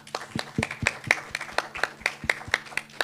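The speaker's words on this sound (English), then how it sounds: "we've got to give him a round of applause" Sparse conference audience applause, a slow run of distinct separate claps from a few hands, quiet and fairly even in rhythm, with no voices.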